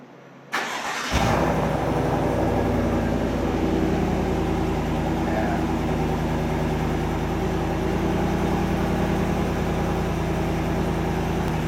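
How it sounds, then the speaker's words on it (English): Chevrolet engine fitted with a Chevy Performance exhaust and intake starts after a brief quiet moment, then settles into a loud, steady, deep idle rumble. "we've just put on our Chevy Performance exhaust, and it's the moment of truth. It's time to see what it sounds like"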